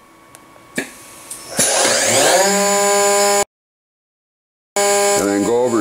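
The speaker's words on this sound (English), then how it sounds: "So if I start the spindle," A CNC router spindle on a woodworking machine spins up with a rising whine after a few clicks, runs as a loud steady tone, cuts out to silence, then starts again and ramps up.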